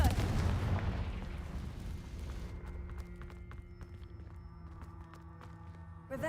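Magical explosion from a Confringo blast spell in a wizard video game: a deep booming burst at the start that decays into a rumbling tail, followed by quieter game ambience with faint tonal hums and scattered clicks.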